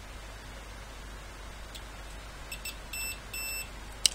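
A multimeter on continuity test gives short high beeps while probing an amplifier board, two brief tones near the end and a final click, over faint background hiss.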